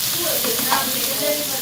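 Ginger paste sizzling in a frying pan of oil with garlic paste already browned, a steady close hiss with soft crackles throughout.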